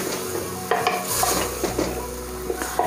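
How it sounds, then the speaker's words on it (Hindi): Chicken and onions fry in a pot, giving a steady sizzle throughout while a utensil stirs and scrapes against the metal in irregular clanks, close and fairly loud, with no talking. "अब इसको इसके साथ थोड़ा फ्राई करते हैं।"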